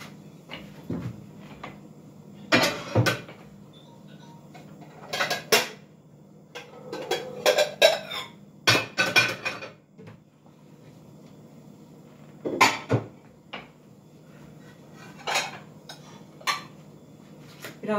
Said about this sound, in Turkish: Şu bulaşıkları hemen bir akıtayım.